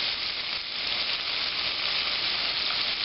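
Shrimp deep frying in grease give a steady, close, bright sizzle and crackle that holds evenly with no talking.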